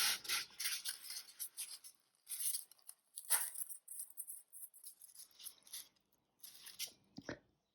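Glued foam pieces are pulled off a surface, giving repeated close, dry rasping rips and crackles in short bursts separated by brief pauses, with one sharper snap near the middle.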